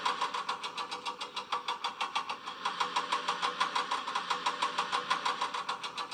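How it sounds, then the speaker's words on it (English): A lorry's winch engine runs steadily with a fast, regular pulsing chug, loud and close, continuing throughout with no voices. "The lorry driver started a winch."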